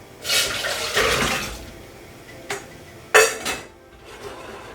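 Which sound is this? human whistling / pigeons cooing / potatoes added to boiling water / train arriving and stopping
potatoes added to boiling water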